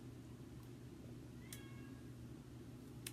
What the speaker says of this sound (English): you're going to hear my kitty cat crying